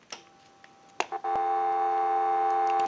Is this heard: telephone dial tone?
yes